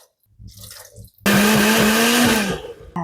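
A blender grinding boiled chickpeas for hummus starts abruptly after a quiet stretch, a loud close motor whir with a strained, fluctuating pitch that runs about a second and a half before winding down, then a brief restart.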